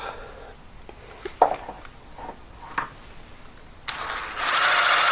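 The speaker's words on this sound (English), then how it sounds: "So I've got this drill attachment, like a diamond burr." A high-torque rotary drill fitted with a diamond burr attachment switches on partway through and runs with a steady whine, close by, after a few quiet knocks and handling sounds.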